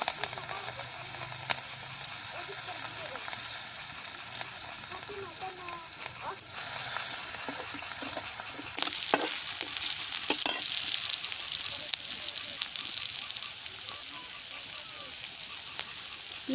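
Onions and green chilies sizzle and crackle in leftover fish-frying oil, a continuous close frying hiss with stirring scrapes and brief louder bursts, while a person talks over it.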